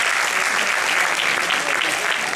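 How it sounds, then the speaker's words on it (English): Loud, dense applause from an audience welcoming a lecturer onto a cruise ship stage, a continuous wash of clapping that stays even throughout, with a little crowd noise mixed in. "With a big round of applause, welcome to the stage, Miss Yvette."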